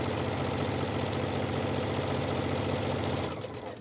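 A sewing machine runs continuously, stitching quilt-as-you-go hot pads, a close, fast, even mechanical whirr that slows and stops at the very end.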